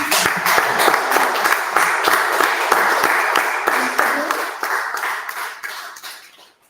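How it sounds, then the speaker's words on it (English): An audience at a lunchtime lecture gives a round of applause: crisp, distinct claps from many people, strong and steady at first, then thinning out and fading away over the last couple of seconds. "I want every single person here today give him a round of applause"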